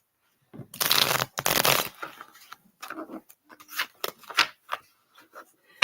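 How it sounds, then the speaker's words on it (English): A brand new deck of playing cards is shuffled by hand: two loud riffle bursts up front, then softer taps, squaring and scattered riffles of the cards, close and with no talking. "This deck's actually rather easy to shuffle."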